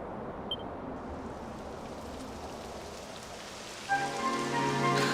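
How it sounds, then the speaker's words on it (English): Steady rain patters across the whole stretch in a Dragon Quest XI S field, a dense even hiss that swells slightly near the end as a soft musical tone enters underneath. "It would have to go and start raining, wouldn't it?"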